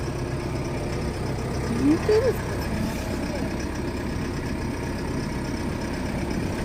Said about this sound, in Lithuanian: kažkaip motoras nelabai gražiai dirba